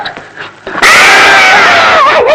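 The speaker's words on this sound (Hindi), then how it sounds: "उसकी चीखने की आवाज" A girl's loud, sustained high-pitched scream bursts in after a brief quiet stretch, wavering in pitch and holding at full volume to the end.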